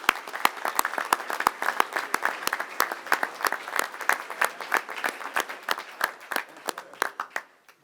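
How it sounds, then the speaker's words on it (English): Applause from a board meeting audience, a small group clapping steadily for several seconds, individual claps distinct, then tapering off at the end. "one last round of applause for these guys"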